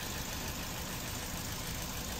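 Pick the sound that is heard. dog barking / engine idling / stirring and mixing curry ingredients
engine idling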